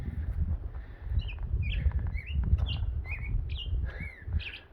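Small birds chirp and tweet in short, scattered calls over low rumbling outdoor noise, heard on a cool early-morning hike along a trail on the Pacific Crest Trail.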